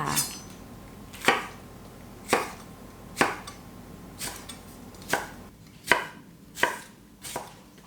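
A knife slices diagonally through a bell pepper on a board in a steady series of about nine sharp cuts, roughly one every second, close and crisp.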